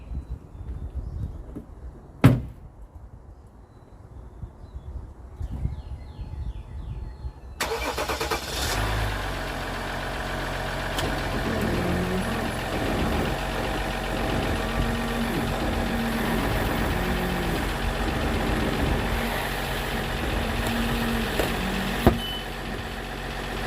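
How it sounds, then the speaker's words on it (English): An ATV engine sits quiet at first, then starts with a knock and settles into a steady idle that runs on close and even while the machine backs slowly over a tire to break the bead. "you back over slowly and it'll break the bead"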